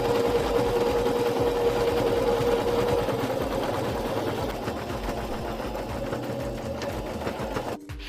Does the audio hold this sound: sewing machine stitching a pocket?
yes